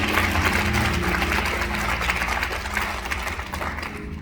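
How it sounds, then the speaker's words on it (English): An audience at a church gathering claps its hands in a dense, continuous patter that stays fairly loud and even for about four seconds. "Clap your hands, somebody."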